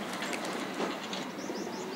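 Pigeons flying in after being released about 15 km away, with fluttering wingbeats and light bird calls over a steady outdoor rumble, fairly faint and continuous with no talking.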